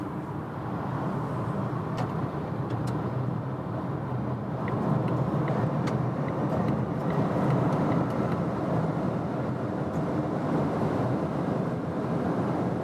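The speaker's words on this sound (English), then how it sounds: "We're in Germany, German Autobahn, the new Volvo XC40 EV, and let's accelerate it out." Steady interior road and wind roar of a Volvo XC40 Recharge P8 EV accelerating hard on a German Autobahn, a broad continuous rush that builds slightly in loudness with no voices.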